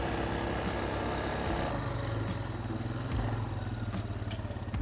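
Yamaha Grizzly ATV engine running on a narrow alpine road, a steady rumbling motor with clattering and some bumps, close and continuous, with no talking.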